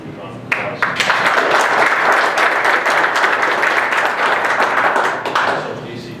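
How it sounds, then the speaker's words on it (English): A crowd at an adult machine tool graduation ceremony breaks into loud, sustained applause, dense clapping from many hands filling the room evenly for several seconds with a few sharper claps standing out. "so we're going to move on to applause"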